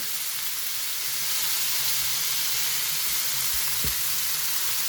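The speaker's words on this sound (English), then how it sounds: "I'm actually just going to leave them alone and let them cook so they could get color on the underside." Chicken fajitas frying untouched on a flat electric griddle give off a loud, even, hissing sizzle that runs without a break, close up, with a faint low hum beneath and no voices.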